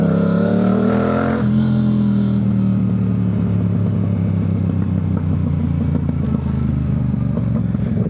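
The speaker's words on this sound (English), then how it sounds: "That exhaust sounds nasty." Loud, rough motorcycle exhaust revving close by during a city ride, a low throaty drone that rises sharply in the first seconds and then settles into a steady rumble with clattery edges.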